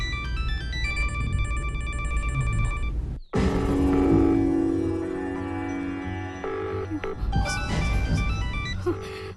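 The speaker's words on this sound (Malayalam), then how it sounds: "ഫോൺ റിങ് ചെയ്യുന്നുണ്ട്, പക്ഷെ ആദ്യം ഫോൺ എടുക്കുന്നില്ല" A telephone rings in a repeating electronic tone pattern, breaks off briefly, then rings again with a fuller melodic ringtone, clear and fairly loud throughout with no talking.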